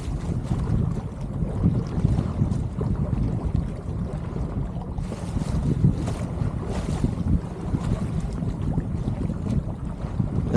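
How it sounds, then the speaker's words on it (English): A sailboat fitted with new custom sails moves under wind near a marina cove, with steady rushing wind across the microphone and water washing against the hull, loud and continuous. "I like to kind of drop into the Marina Cove once in a while and then just sail back out"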